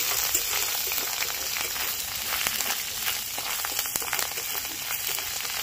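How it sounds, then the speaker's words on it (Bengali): Ginger and green chillies fry in hot oil as tempering for a winter vegetable moong dal, a steady close sizzle with fine crackling throughout and no talk. "এটা একটুখানি ভেজে নিতে হবে, কারণ আদার একটা কাঁচা গন্ধ থাকে"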